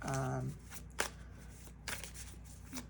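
Tarot cards riffle and slap together in a few quick shuffling bursts, close and crisp, with brief pauses between them.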